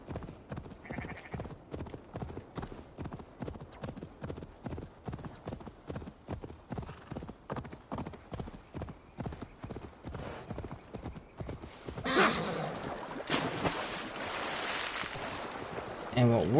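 Horse hooves clip-clop steadily in rapid rhythm in Assassin's Creed Valhalla, loud and close, before giving way to a wash of water and wave-like noise near a watermill.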